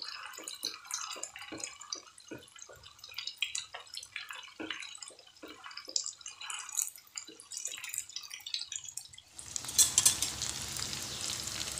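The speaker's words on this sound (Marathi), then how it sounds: "उलट पलट करत फ्राय करून घ्यायची, अशी खरपूस गोल्डन ब्राऊन कलरवर" Crispy soya cheese cutlets fry in a pan, giving crackling pops and spits. A denser, hissier sizzle swells near the end as they are turned.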